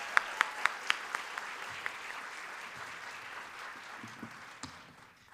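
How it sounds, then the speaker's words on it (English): An audience applauds a Kathak dance performance: a burst of sharp claps at the start that thins into scattered, moderately distant clapping and fades out, with no talk. "A big round of applause again for Mytreyi."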